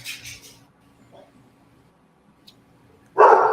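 A deaf dog lets out a single loud, close bark near the end, after a stretch of near silence with faint shuffling and a brief high yip at the start.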